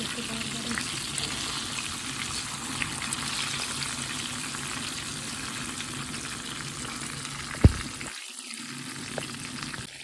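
KFC-style chicken frying in hot oil, a steady soft sizzle and crackle throughout with a sharp clink near the end, fairly quiet and close.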